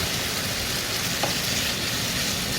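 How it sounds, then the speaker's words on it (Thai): Kitchen extractor hood running steadily while pork fries in a pan, a constant broadband whoosh of fan noise with frying hiss blended in, no talking. "สียงเครื่องดูดอาจจะดังหน่อยเด้อจ้าเด้อ เพราะว่าอยู่ที่นี่มัน ไม่เหมือนที่บ้านเรามันต้องดูดค่ะ"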